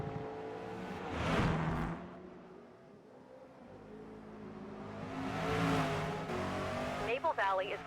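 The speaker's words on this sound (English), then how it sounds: "you get thrown into Maple Valley, driving a Corvette E-Ray." A Corvette E-Ray laps Maple Valley in the Forza Motorsport racing game, its engine note swelling and fading through acceleration and corners, steady and fairly loud, with a brief tire squeal near the end.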